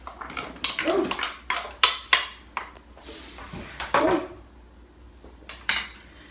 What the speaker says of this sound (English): I'm going to dump the garlic in my large pan,